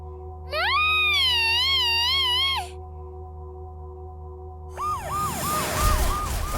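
Wailing police car sirens in the video game Rogue Galaxy: a loud rising-falling tone holds for about two seconds, then after a pause a second siren whoops in rapid repeated cycles over noisy game rumble.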